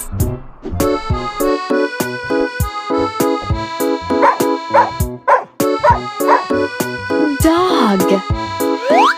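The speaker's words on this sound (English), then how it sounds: "Dog." Dog barking in a repeated series of yips and bow-wows, close and loud, with whimpering, a steady rhythm of short barks throughout.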